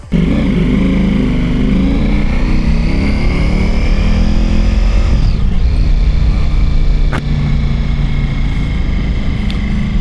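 A Ducati Pikes Peak motorcycle with an Akrapovic exhaust, before its Stage 1 tune, runs loud and close in sport mode, its engine droning steadily with revs swelling and dipping, plus a couple of sharp crackles.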